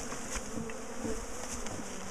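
Honey bees buzzing around a top bar hive, a steady close drone with a few louder passes of individual bees.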